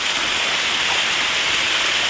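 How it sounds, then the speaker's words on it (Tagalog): Heavy rain pounds down with strong wind during a squall near a coastal hut, a dense, loud, unbroken roar of drops with no voices. "Napakalakas ng ulan."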